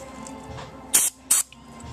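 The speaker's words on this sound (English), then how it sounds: "I sprayed some carburetor cleaner in it." Carburetor cleaner sprayed from an aerosol can into a Yamaha RX-1 4-stroke snowmobile carburetor: two short, sharp hissing bursts in close succession over a quiet background.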